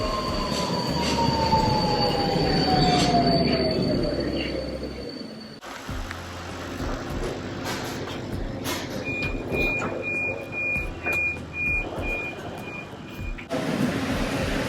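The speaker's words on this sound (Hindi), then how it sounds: "आएगी ट्रेन, चलते हैं।" A metro train arriving at a Budapest station rumbles and its wheels squeal on the rails, a falling screech at first, then steady clatter with repeated electronic beeps from the platform.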